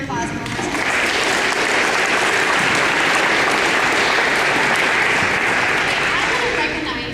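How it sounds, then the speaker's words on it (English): Large audience at an Arizona gathering gives a sustained round of applause, thick even clapping swelling in and holding loudly for several seconds before tapering slightly. "Let's give everyone a big round of applause one more time."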